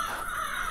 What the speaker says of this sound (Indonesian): Ada burung gagak lagi.